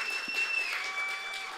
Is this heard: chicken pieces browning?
no